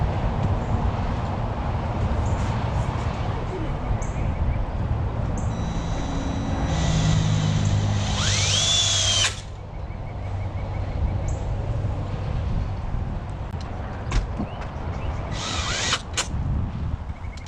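A power drill drives screws into pallet-wood barn doors on a chicken coop, with a sustained motor whine that rises in pitch as a screw seats, then drops to quieter hum and handling sounds outdoors.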